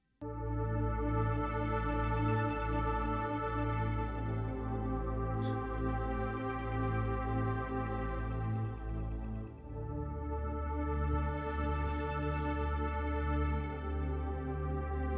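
A telephone rings steadily and continuously, an electronic ringtone repeating without pause, clear and close with no talking.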